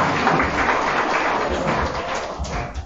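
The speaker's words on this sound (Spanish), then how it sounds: "Recibamos también con un fuerte aplauso" An audience at an evening school event with the regional governor applauds to welcome the school rector, giving a short burst of dense, roomy clapping that stays steady and fairly loud.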